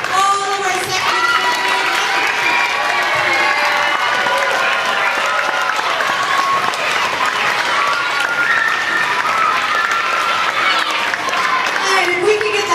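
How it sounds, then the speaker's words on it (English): Parents and friends at an elementary arts school's troupe performance give sustained applause with cheering, a loud dense wash of clapping and crowd noise that includes children's voices and runs for nearly thirteen seconds. "Can we have one big round of applause for all of our second"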